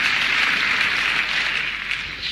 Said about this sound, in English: Again, the crowd are just clamouring for him.